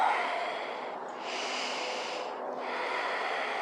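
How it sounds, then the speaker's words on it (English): A deep breath drawn in through the nose during yoga trapeze practice, one long close airy inhale that swells and eases over a few seconds, with no talking. "Inhale."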